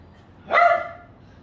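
A single sharp dog bark rings out nearby, loud and brief against a quiet background.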